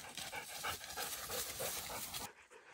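A hunting dog pants close by after a boar hunt, fast and steady breaths that stop abruptly near the end, with no talk.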